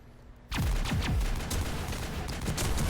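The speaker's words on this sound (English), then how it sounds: "Shooting on Eden Prime." Sustained gunfire from a distress transmission in the Mass Effect 1 video game, set on the colony world Eden Prime: loud, dense bursts of rapid shots and heavy impacts erupt after a brief quiet lead-in and continue without pause.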